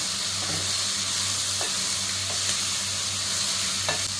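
Ingredients for rasam dry-roast in a pan with a steady hiss and sizzle, broken by a few soft scraping stirs and light knocks at close range.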